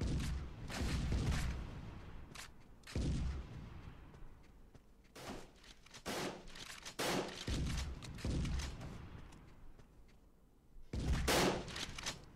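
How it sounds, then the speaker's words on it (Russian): Gunfire in the online shooter Contra City during a 2v2 clan match: repeated loud bursts and single sharp shots in irregular clusters, close and dominant, with quieter gaps between volleys. "Не пойму все, откуда стреляют."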